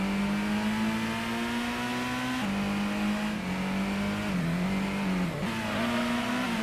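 Race car engine in the original PlayStation Gran Turismo during an endurance race, a loud steady buzzing drone that dips and recovers with gear shifts and throttle changes, continuous and alone with no talk.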